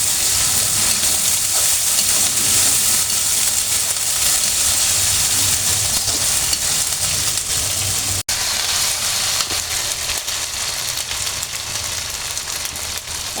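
Onion, green chili, ginger paste and garlic paste fry in a pan, a steady broadband sizzle and hiss that runs unbroken throughout, close and fairly loud with no talking.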